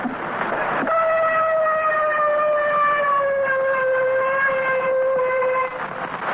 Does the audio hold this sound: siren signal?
yes